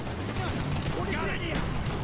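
Gun firing in Call of Duty: Black Ops, a steady stream of rapid shots heard fairly loud and continuous with other game noise mixed in, no clear speech.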